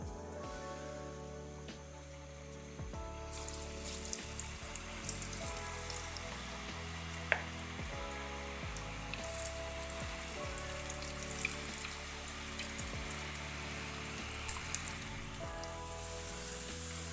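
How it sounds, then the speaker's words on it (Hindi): Chips fry in oil with a soft, continuous crackle and patter of sizzling bubbles, heard faintly beneath steady background music. "अब हम चिप्स को फ्राई करेंगे"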